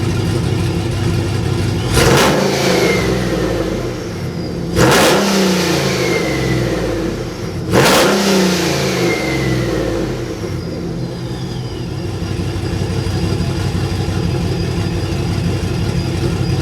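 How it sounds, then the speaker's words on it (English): A car engine idles loudly, then revs sharply three times through an open electric exhaust cutout with a harsh, open exhaust bark, each rev dropping back to a rumbling idle. "Now we are going to open the exhaust cutout and do the same revs."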